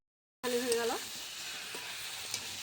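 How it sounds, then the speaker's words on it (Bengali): Jackfruit pieces sizzle in hot oil in a pan for a jackfruit and prawn curry, a steady close hiss of frying that starts abruptly and carries on with brief crackles and stirring. "কাঁঠালটা আমার ভাজা ভাজা হয়ে গেল"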